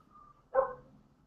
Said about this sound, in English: I've got this one dog in the area where I live that never shuts the fuck up.